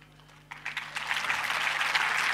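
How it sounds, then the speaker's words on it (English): Audience clapping in a campus lecture hall during a motivational talk, a brief burst of applause that swells and continues steadily from a scattered start. "No need to clap."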